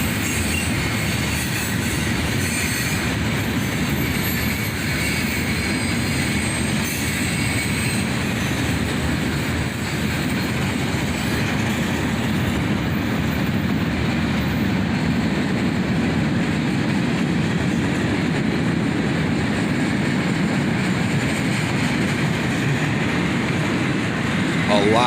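CSX freight train led by two SD43 locomotives heading northbound, hauling uncovered steel coils and steel slab cars: a steady, loud rumble of rolling cars with wheel noise and faint squeals, continuous and close throughout.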